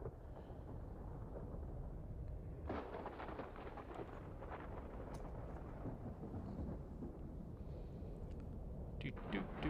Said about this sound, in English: definitely got the ambient noise of thunder.